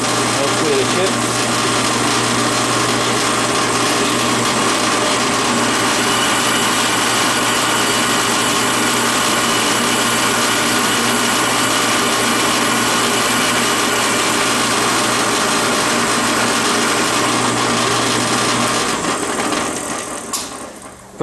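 A drill bit cuts S30V knife steel in a shop, a steady mechanical whir and grinding hum running continuously for about twenty seconds before stopping.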